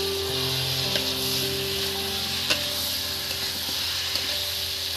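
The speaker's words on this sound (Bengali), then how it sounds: "বন্ধুরা এবার ইঁচড়গুলো আমি দিয়ে দিচ্ছি এর মধ্যে" Young jackfruit pieces go into a hot pan with a steady, close sizzle and a few stirring knocks, continuous frying hiss for several seconds without speech.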